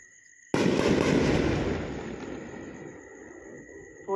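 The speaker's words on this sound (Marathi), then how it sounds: "त्या ठिकाणाहून आठ ते दहा स्फोटांचे आवाज ऐकू आलेत" One sudden, loud explosive boom, one of eight to ten explosions heard in Baramulla, rumbling and fading away over a few seconds.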